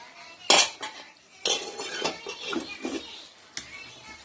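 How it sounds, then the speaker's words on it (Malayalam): Chicken perattu being stirred in a pan, with sharp metal spoon scrapes and clanks against the pan at irregular intervals, close and fairly quiet, with no talking. "നമുക്കൊന്ന് ഇളക്കി കൊടുക്കാമേ."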